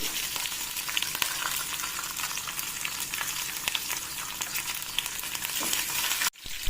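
Urad dal, chana dal, peanuts, green and dried red chillies with mustard seeds fry in hot oil, a steady close sizzle with scattered pops and crackles, cutting off briefly near the end.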